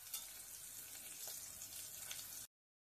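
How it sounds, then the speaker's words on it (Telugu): Oil tempering for tamarind rasam sizzles and crackles steadily in a pan while being stirred, a bright continuous frying hiss close up, ending abruptly in silence. "తిప్పుకుంటూ ఉంటే కొంచెం ఎర్రగా ఏగేదాకా ఈ తాలింపు ఏగాలండి"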